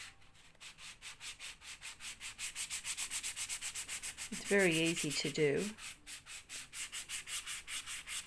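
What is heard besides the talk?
sanding block sanding a shiny book cover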